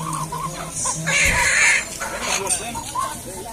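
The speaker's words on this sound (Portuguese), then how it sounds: "ele trouxe um saco cheio de galinha" Chickens at a Brazilian market in Alagoas, with clucks and squawks close by and a louder burst of agitated calls in the middle, mixed with people talking in the background.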